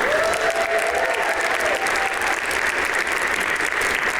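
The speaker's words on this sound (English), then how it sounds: "Keep clapping one more time for these business owners." Dense, steady clapping from an audience at a business awards ceremony runs unbroken and loud for several seconds, with a brief tonal sound early on.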